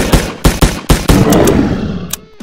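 Pistol fire in Doom: a quick burst of about six sharp, loud gunshots in an uneven rhythm, the last ones trailing into a fading reverberant tail.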